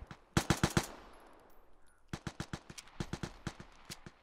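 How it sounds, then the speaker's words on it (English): A grease gun fires in the Vigor video game: a quick burst of close, sharp single shots, then a pause with a fading tail, then a longer run of evenly spaced shots fired one at a time. "Gotta put the grease gun on single"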